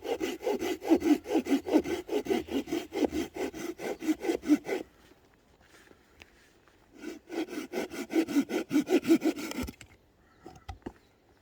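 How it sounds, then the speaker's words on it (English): A hand saw cuts through wood outdoors at a bushcraft den shelter camp, with close, steady back-and-forth strokes in two bursts separated by a quiet pause of a couple of seconds. "Now, some people love sawing."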